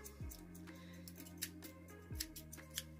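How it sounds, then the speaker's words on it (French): Scissors struggling to cut through paper while crafting a vintage-themed memory book: a couple of short, scraping snips with faint clicks and rustles, close and quiet, with no talking. "Mon ciseau ne coupe pas."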